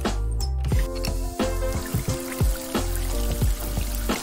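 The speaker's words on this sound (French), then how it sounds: "rien de tel qu'une bonne douche chaude." Water runs and splashes from a shower head in a hot shower, a steady pouring spray broken by repeated dripping and trickling sounds, fairly close and moderately loud.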